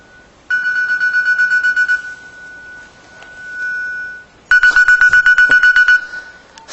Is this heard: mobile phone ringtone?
yes